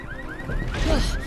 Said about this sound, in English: Never thought I'd be happy to hear a car alarm